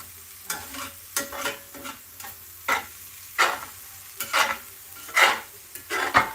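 Shredded beef for a machaca skillet crisps in a pan while a utensil scrapes and turns it, making irregular stirring strokes over a low steady sizzle, close up and without speech.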